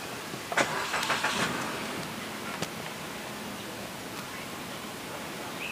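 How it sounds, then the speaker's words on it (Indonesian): A 2017 Suzuki Ignis GX AGS engine cranks and catches, settling into a steady low idle with broadband noise and a few clicks early on. "Saya akan startup."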